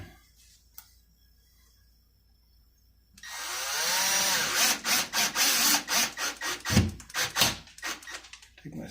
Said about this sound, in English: Screw that in.